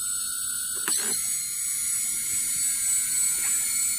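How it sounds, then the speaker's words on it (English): A servo and motor on a Multiwii 2.3 flight controller board give a high, thin electric whine with short ratcheting clicks and buzzes, close and steady throughout. "So first I'm gonna arm the motor and show you what I'm talking about here."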